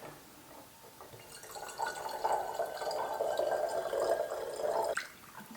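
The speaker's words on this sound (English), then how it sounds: "Next, we're going to fill the bottle with water." Water runs steadily into a bottle for a few seconds, the pouring tone building in pitch as it fills, then stops abruptly.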